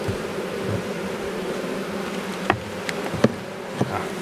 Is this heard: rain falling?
no